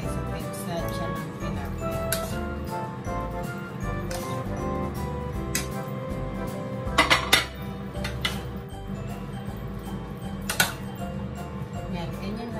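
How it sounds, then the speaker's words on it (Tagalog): Utensils clink and scrape against a bowl while tilapia stuffing ingredients are mixed, with intermittent sharp clatters over steady background noise. "Kahaluin na natin mabuti itong mga sangkap."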